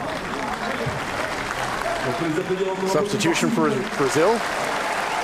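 Crowd applause at a Paralympic blind football match between Brazil and China in Paris, a steady broad wash of clapping and cheering with a commentator talking over it throughout.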